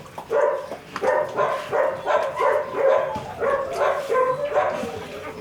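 A greyhound at an Irish breeder's kennel lets out a run of high, repeated squeals and whimpers, close and fairly loud, in uneven bursts across the whole stretch.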